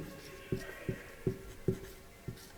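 Chalk strokes tap on a classroom board during a maths lecture, about five short, evenly spaced knocks, quiet and close, with no talking over them.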